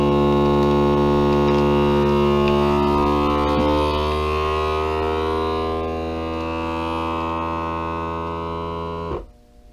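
A vacuum sealer machine seals a box of 9mm ammo with a steady, loud electric hum layered with strong tones, running continuously for about nine seconds before cutting off abruptly.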